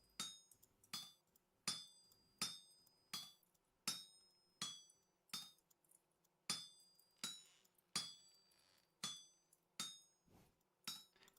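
Rhythmic hammer blows ring out on an anvil while smithing in Vintage Story, about twenty sharp metallic clinks in steady groups with short pauses, each strike bright and ringing with a quick decay, quiet and alone.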